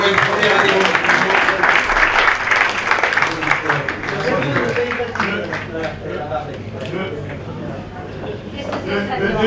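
Audience applause honoring the movement's first member at a gathering, a broad sustained wash of clapping from many people, loud at first and easing slightly, with speech audible over it.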